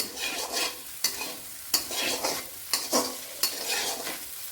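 Egg and okra stirred in a frying pan, a spatula striking and scraping the pan in regular strokes about every second over a constant sizzle, close by.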